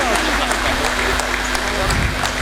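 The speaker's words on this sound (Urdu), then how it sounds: "آپ سب کی بھرپور تالیوں میں جناب اسپیکر پنجاب اسمبلی صاحب." Audience clapping at a Punjab Assembly event as the Speaker of the Punjab Assembly is invited to the rostrum, steady broadband applause filling the whole moment with a low hum underneath and some mixed voices.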